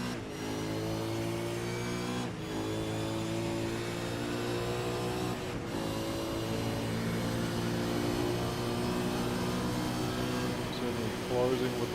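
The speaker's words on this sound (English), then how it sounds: "Closing with the slipstream, even hitting the limiter in 6th gear" Supercars race car engine in a sim racing game, running loud and steady at high revs in sixth gear and bouncing off the rev limiter while a commentator talks over it.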